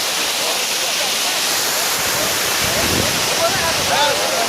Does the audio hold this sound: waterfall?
yes